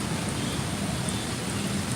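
Heavy rain pours down in Hyderabad, a dense, steady hiss of falling water that stays constant and loud throughout with no pauses.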